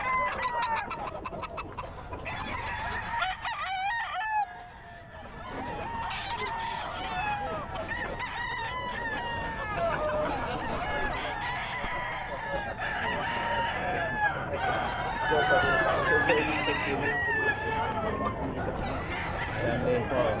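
Several roosters crow repeatedly among clucking fowl at the Bocaue pet market, with overlapping calls near and far and people talking throughout.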